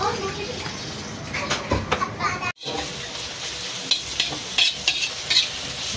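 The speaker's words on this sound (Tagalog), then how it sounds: "Gisa yung sibuyas. At bawang." Chopped onion and garlic sauté in a pan for a bihon noodle dish, with busy stirring scrapes over a crackling sizzle. Children's voices can be heard faintly in the background.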